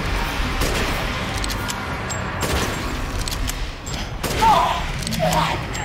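Sniper fire in Resident Evil Village sounds as a few sharp, loud shots over dense game ambience, with a voice briefly audible.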